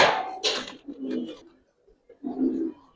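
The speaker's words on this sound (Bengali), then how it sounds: "কবুতর দেখেন ভাই" Giribaz and coloured fancy pigeons cooing at a close distance, a few soft throaty bursts separated by short pauses, with a brief higher call at the start.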